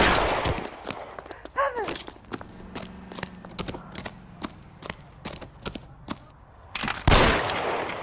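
Gunfire in the L.A. Noire video game: a rapid string of sharp, loud shots in uneven bursts, ending in a heavier cluster of blasts, with brief voices underneath.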